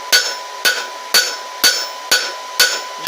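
A hammer planishes a hot forged metal handle at black heat, striking in a steady even rhythm of seven sharp ringing blows, close and loud with no talk.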